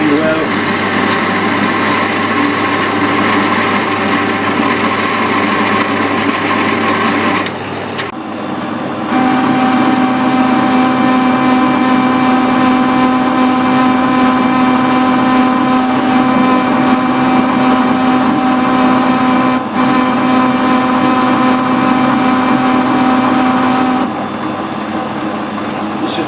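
A lathe turning at 45 RPM machines a BSP steam fitting, giving a steady, loud mechanical hum with a sustained cutting tone that shifts once midway, while someone talks over it.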